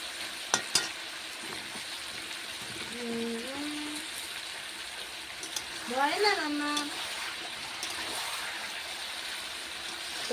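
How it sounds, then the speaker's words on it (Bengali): Chicken pieces being stirred and fried in a pan for a home-style chicken kasha with potatoes, giving a soft continuous sizzle with scraping stirs and brief clanks, while someone talks intermittently over it. "এরকম করে 5 মিনিট নাড়াচাড়া করে নেব। এই দেখো মাংস কষিয়ে নিয়েছি"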